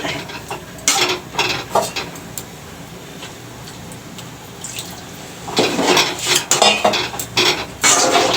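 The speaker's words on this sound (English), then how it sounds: "Cover it up and let it cook." Metal pot and lid clatter while egg curry cooks, a few sharp clanks early on, then a quieter stretch and a burst of dense clattering near the end.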